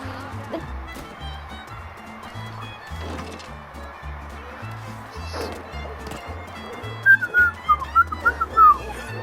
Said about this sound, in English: I really suck at whistling.